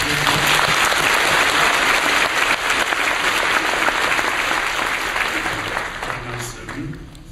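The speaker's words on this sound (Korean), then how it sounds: "목사님께도 우리 환영의 박수 한번 드리겠습니다" A church congregation gives loud, continuous welcome applause for a visiting pastor, steady clapping that slowly tapers off with voices audible beneath it.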